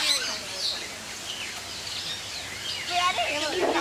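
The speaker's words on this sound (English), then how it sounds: "there'll be birds over" Birds chirp and tweet in short, scattered calls at an outdoor bird feeding spot beside a bridge, fairly close and moderately loud, with brighter bursts near the end and no voices during the clip.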